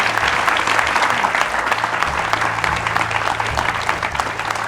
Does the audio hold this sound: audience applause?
yes